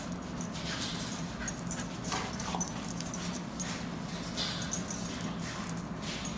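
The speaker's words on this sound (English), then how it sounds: "this is Snow, our deaf and blind puppy." A deaf and blind puppy whimpers softly and steadily under continuous low background noise, with faint high yips scattered through the stretch.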